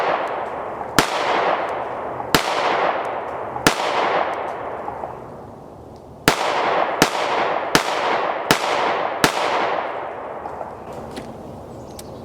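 Several shots from a Springfield Armory Echelon 4.0 FC handgun ring out outdoors, eight sharp loud cracks at irregular intervals, each followed by a rolling echo that fades slowly.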